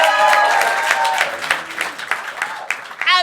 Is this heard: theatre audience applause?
yes